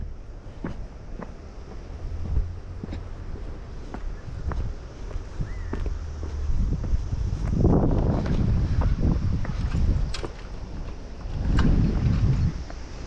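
Wind gusting hard across a rocky seaside fishing spot, with loud rumbling microphone buffeting that swells and drops, scattered sharp knocks, and occasional surges of rushing air and water.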